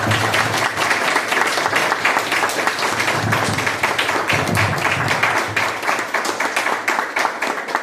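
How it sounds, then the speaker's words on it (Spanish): Sustained applause from a large audience, dense steady clapping filling the whole stretch at a constant loud level. "Un aplauso, por favor."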